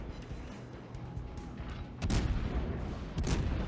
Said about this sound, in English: Red and I are shooting at Bismarck